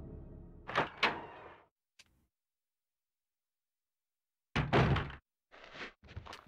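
A door opening in the Resident Evil 2 video game: a short handle rattle and thunk, then silence, followed by a louder heavy creak and bang with a couple of trailing knocks, close and isolated.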